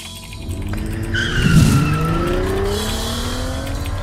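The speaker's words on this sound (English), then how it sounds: "the noise in the car was so awful, between the wind, the radio, and the Vols fans" Noisy car interior with wind rushing and a radio playing, a loud steady roar of engine and road noise with drawn-out whining tones sliding across it throughout.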